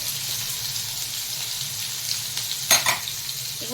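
Drumstick flowers fry in a pan for a curry, giving a steady, close sizzle with a brief clatter of stirring near the end and no talking.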